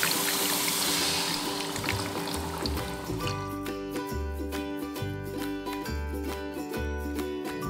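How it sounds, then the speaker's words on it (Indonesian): Chicken broth being poured into a pot of fragrant spices while making Indonesian chicken rice porridge, a soft splashing pour in the first few seconds that is soon covered by rhythmic background music with a steady beat. "Ini bumbunya udah harum, jadi mau kita masukin kaldu ayamnya."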